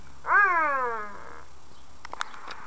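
A single drawn-out cat meow rises and falls close by, followed by a few faint clicks and taps in an otherwise quiet space.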